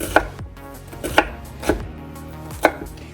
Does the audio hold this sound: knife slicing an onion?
yes